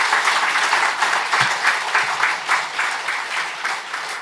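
A church congregation applauding at a dedication thanksgiving service, a sustained wash of many hands clapping together, loud and fairly even for several seconds with no voices.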